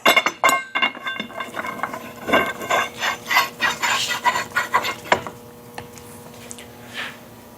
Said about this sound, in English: So I'll go ahead and thread that on now.